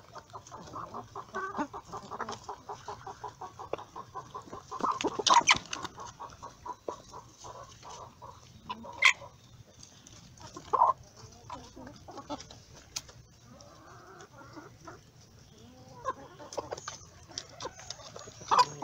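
Free-range chickens cluck and murmur nearby at feeding time in an irregular stream, punctuated by occasional sharper squawks, with no talking over them.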